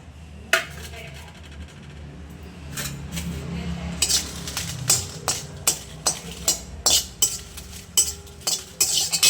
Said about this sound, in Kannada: ಮೆಣಸಿನ್ಕಾಯಿ ಸುಮ್ಮನೆ ಒಂದು ಸ್ವಲ್ಪ ಬಿಸಿ ಮಾಡ್ಕೋತೀನಿ